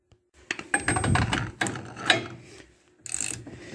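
Nuts are run up with a ratchet on the ball joint of a 2003 Dodge RAM 3500 dually, giving quiet clicking bursts with short pauses between them and no voices.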